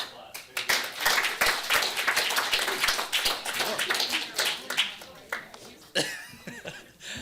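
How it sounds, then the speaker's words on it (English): At a city council meeting, the audience applauds with brisk, uneven clapping that builds and then thins out, with scattered laughter, a few isolated claps and voices talking near the end. "Give them a round of applause."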